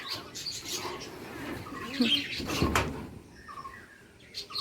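Small birds in a home colony chirp and tweet in scattered bursts, moderately close and fairly quiet, over a faint room background with a few light knocks or door sounds.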